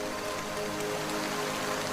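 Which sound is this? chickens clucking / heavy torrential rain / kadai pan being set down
heavy torrential rain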